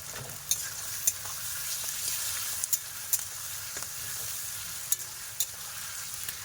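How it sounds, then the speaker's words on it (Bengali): Crushed garlic fries in a pan over a village cooking fire, a continuous close sizzle with sharp spatula scrapes and taps landing every second or so, no voices. "নাড়াচাড়া দিয়ে দেবো রসুন থেতো"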